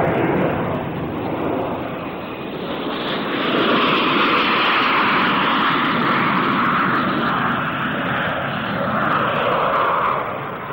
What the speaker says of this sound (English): The Buccaneer, a low-level naval strike aircraft designed to operate below radar cover.